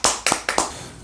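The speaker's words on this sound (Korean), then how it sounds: "함께 하신 하나님께 감사의 박수를 드립시다." A church congregation claps in thanks at the close of a Sunday service, a few distinct sharp hand claps in quick succession, close and clear, with nobody talking.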